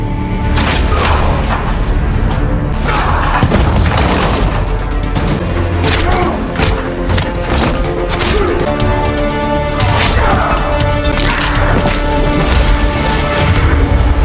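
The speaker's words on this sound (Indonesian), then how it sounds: "terjadilah pertarungan yang kali ini dimenangkan oleh John." A film fight scene plays as a dense, loud barrage of smashes, thwacks and booming impacts, continuous and heavily mixed throughout.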